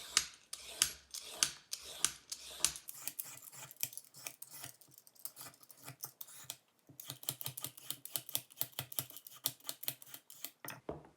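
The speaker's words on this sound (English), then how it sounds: "Now we need to peel the carrot." A peeler scrapes along a carrot in quick, rhythmic strokes, each a crisp rasp close by, running in bursts with a brief pause midway; no talking.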